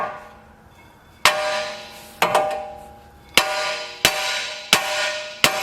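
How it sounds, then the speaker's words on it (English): Hammer whacking a part on a Trailblazer SS build, six sharp metallic clanks spaced about a second apart, each ringing briefly before decaying, close and loud with no talk. "You're just going to give it some whacks, try to put some pressure on it up here so it doesn't fall on your freaking head."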